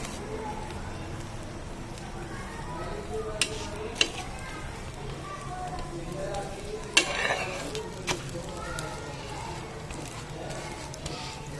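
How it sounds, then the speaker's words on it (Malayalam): Bread frying in a pan for a Kerala-style snack of bread dipped in batter, giving a steady low sizzle with stirring and a few sharp clinks of utensil on pan, with no voices. "ബ്രെഡ് രണ്ട് രീതിയിൽ പൊരിക്കട്ടോ"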